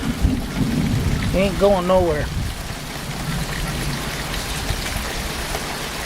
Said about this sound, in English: I'm just waiting for the rain to slow down.